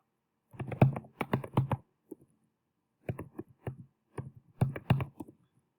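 Bursts of quick keystrokes on a computer keyboard, close and clear, come in short runs separated by pauses, as a name and date are typed into an Excel worksheet.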